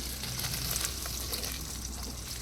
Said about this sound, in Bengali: মাসকালাই ডাল ঢেলে দিলাম